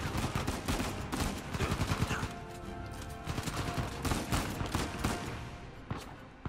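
Gunfire in the video game Uncharted 4 comes as a quick run of sharp, moderately loud shots and bursts over a busy game soundscape.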